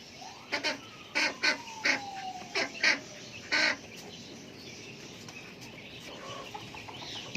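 Chickens in a village yard cluck in short, scattered bursts while eating spinach, with steady background noise between calls.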